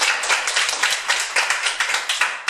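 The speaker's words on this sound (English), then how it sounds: "Give a round of applause" A small audience at a speaking club meeting claps for a speech, a close, fairly loud burst of many hands in quick, uneven rhythm that holds steady throughout.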